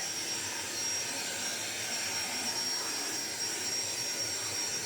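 A Xiaomi G20 Lite cordless stick vacuum cleaner runs steadily with a constant high-pitched motor whine and airflow hiss, close and continuous with no speech.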